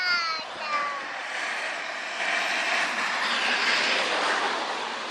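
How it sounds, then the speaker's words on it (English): A plane flies overhead near a campsite and railway bridge in Werden, Essen, as a broad steady engine roar that swells slightly and holds loud, with a brief high whine at the start and no talk. "There's a plane. Another plane."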